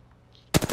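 A rapid burst of video game gunfire in Apex Legends, loud and close, starting abruptly after near silence and continuing as several quick shots.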